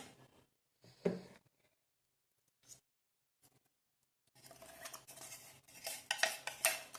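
Scattered clinks and taps at first, then a dense, raspy scraping and rustle as a ground semolina and sugar mixture is rubbed and shaken through a metal sieve.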